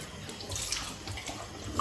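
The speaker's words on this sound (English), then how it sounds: "Then I'm gonna wash my face." Lukewarm water runs from a tap into a sink during face washing, a close, steady splashing stream with small irregular spatters.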